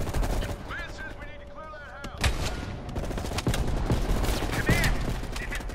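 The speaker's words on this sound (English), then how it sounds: "Readied your sniper rifle to assist." Sniper rifle fire in the video game Call of Duty Cold War comes as sharp, loud single cracks spaced a second or so apart, mixed with game effects and a brief burst of voices.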